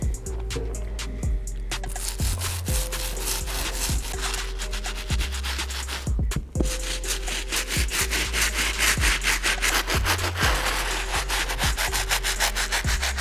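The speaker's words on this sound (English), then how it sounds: "move on to the stiff bristle brush here, and we'll finish hitting the midsoles and soles" A stiff bristle brush scrubs the midsoles and soles of red Adidas Human Race NMD sneakers in rapid back-and-forth strokes, a loud, close, rhythmic scratching that pauses briefly about halfway through, over a low steady hum.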